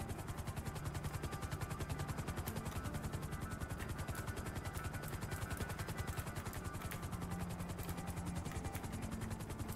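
Helicopter in a video game flying steadily, its rapid rotor chop pulsing evenly throughout with a constant engine whine, loud and close with no talk over it.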